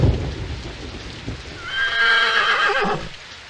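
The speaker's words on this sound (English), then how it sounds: "It's just the horses." Horses in the PSP game 300: March to Glory give a loud, drawn-out whinny over a bed of clip-clopping hooves and rain-like ambience, with no speech.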